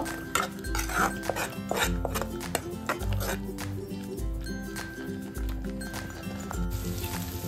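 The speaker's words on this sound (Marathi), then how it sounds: "तेलावरचे हे वाटण अगदी छान असं आपल्याला परतून घ्यायचंय" Green masala paste sautéing in oil in a pan for a fish curry, with a low bubbling fry and repeated spoon scrapes and clinks against the pan at an even rhythm.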